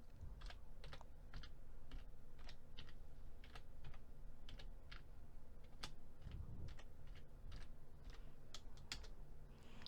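Computer keyboard typing on an accounting data-entry screen, a steady run of crisp, close key clicks at an even rhythm with a few heavier strokes, no voices.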